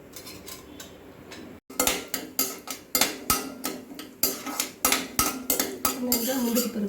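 Cashews roasting in ghee in a wide kadai, stirred with a metal utensil that gives close, sharp clinks and scrapes about twice a second over a low, steady hiss.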